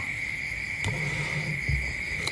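Steady high-pitched cricket chirring runs continuously through a quiet night, with a couple of faint low thumps in the background.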